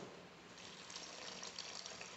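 Room-temperature water pours in a steady rushing stream into cassava starch dough for Brazilian polvilho biscuits, a short continuous close splash with no voices.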